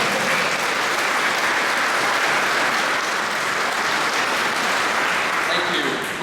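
Sustained applause from a company audience fills the whole stretch, dense and steady clapping at close range without pause.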